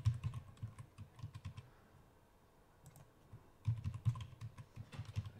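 Someone typing on a computer keyboard, soft quick clicks in two bursts with a brief pause between, faint and close in a quiet room.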